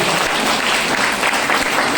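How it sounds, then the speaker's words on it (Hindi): Dense, loud audience applause fills the whole stretch, a steady wash of clapping at a speech event with no voices over it. "ताली जोरदार वाली बजा लीजिए"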